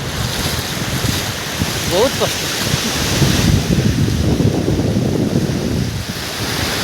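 Sea waves on Gopalpur beach, a loud steady wash of surf mixed with heavy wind buffeting the microphone, with a few brief spoken words.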